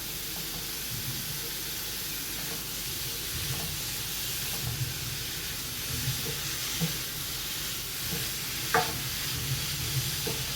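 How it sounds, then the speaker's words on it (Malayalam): Chopped mushrooms sautéing for a creamy mushroom soup, a continuous close sizzle and hiss with repeated scraping stirs of a spatula against the pan and occasional sharper clicks. "അരിഞ്ഞു വെച്ചിരിക്കുന്ന മഷ്റൂം ചേർത്ത് കൊടുക്കാം. ഇത് നമുക്ക് നല്ലതുപോലെ ഇളക്കി വഴറ്റിയെടുക്കാം."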